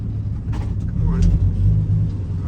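An old 300,000-mile farm truck rolls along in second gear, its engine a steady loud low rumble heard up close from the cab, with brief voices over it.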